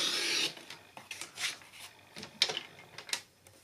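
Coloured cardstock is cut for a bookmark, giving short scraping and rasping strokes in an uneven rhythm, close and fairly quiet.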